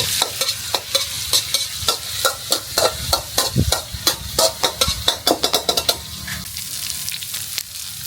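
Food stir-fries in a hot wok over high heat, loud close sizzling broken by a quick series of sharp scraping and clanking strokes from the spatula against the pan.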